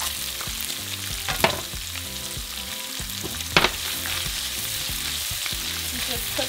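Chopped onion sizzling in bacon fat in a pan, a loud continuous frying crackle with a couple of sharper utensil knocks partway through.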